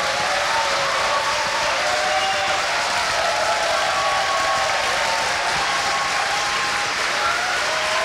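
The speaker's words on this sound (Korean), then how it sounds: "여러분 뜨거운 박수 부탁드리겠습니다." Crowd at a Korean foundation's year-end members' event gives warm, sustained applause, a thick continuous roar of clapping with faint tonal music or feedback running underneath.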